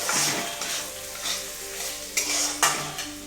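Rice, cashews and raisins are stirred in hot ghee, giving a steady close sizzle with soft scraping strokes of a spoon against the pan and a few sharper clinks near the end.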